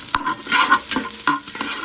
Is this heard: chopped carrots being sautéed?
yes